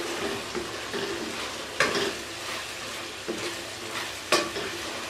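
Aloo keema being stirred in a pan with fresh coriander: a steady low sizzle with a few sharp scraping clicks of a spoon against the pan, close and moderately loud, with no talking.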